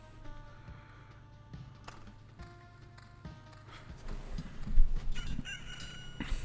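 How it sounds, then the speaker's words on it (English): A rooster crows in the video game Loop Hero, a game sound effect with a rising, drawn-out call that swells near the end over a steady low background hum. No one speaks. "Cock-a-doodle-doo."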